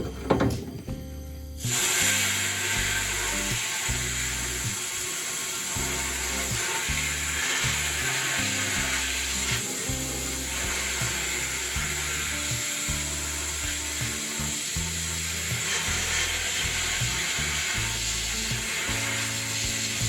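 A pressure sandblaster blasts at 0.4 MPa inside a cabinet, a dense continuous rushing hiss lasting throughout, preceded by a brief valve burst, with a rumbling low drone and uneven knocking underneath; close, no talking.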